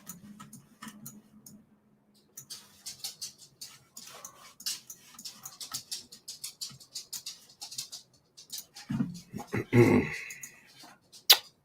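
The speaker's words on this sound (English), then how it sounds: "My dog." A dog pants and whimpers in short, irregular bursts that grow louder toward the end, heard nearby while people talk over it.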